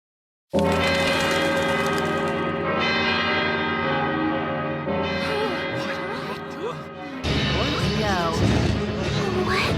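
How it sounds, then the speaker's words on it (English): Heavy bells toll repeatedly in Valkyria Chronicles II, a dense, ringing wash, loud and reverberant, with crashing layered tones and no clear speech. "Those bells mean you've been summoned to battle."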